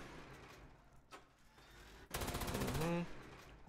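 A laser Gatling gun in Fallout 76 unleashes one loud, dense burst of rapid-fire shots lasting about a second, following a quieter stretch of game background.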